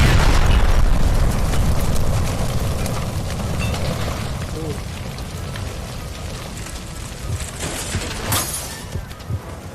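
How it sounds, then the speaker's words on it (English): A gas line blows up in a video game with a loud, roaring explosion at the start that decays into a long rumbling, crackling wash, with voices briefly heard. "Shoot the gas line, Cole, we're out of here!"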